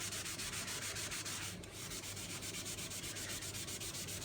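Abrasive eraser rubbed back and forth over a wooden table to lift cup stains and water ring marks, a close, loud, steady rhythmic scrubbing with one brief slowdown partway through.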